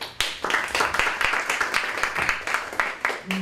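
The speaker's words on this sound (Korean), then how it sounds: "박수로 모시겠습니다" Audience at a youth labor rights forum clapping to welcome a speaker to the podium: close, distinct claps forming a lively but thinning round of applause that tails off.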